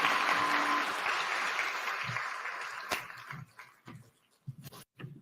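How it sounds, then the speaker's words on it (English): Audience applause at the opening of Kenya Innovation Week, Commonwealth edition, in Nairobi, a dense clapping crowd fading over several seconds into scattered separate claps before stopping. "One more round of applause for His Excellency,"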